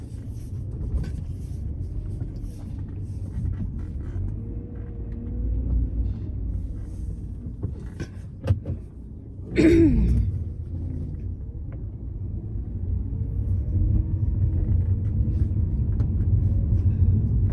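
Car driving on the road: a steady low engine and tire rumble from inside the vehicle, with a brief louder whoosh midway as something passes, then continuing evenly.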